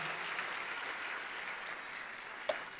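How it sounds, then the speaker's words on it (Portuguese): A church congregation claps during a worship service, a continuous even wash of many hands at moderate volume for a few seconds, with one sharper clap or knock near the end. "Alguém aplauda o Senhor?"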